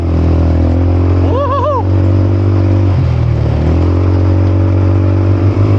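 A vehicle in the Philippines drives at full throttle, its engine giving a loud, continuous steady drone close by, with a brief rising whine early on.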